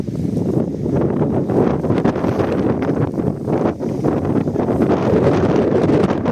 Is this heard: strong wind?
yes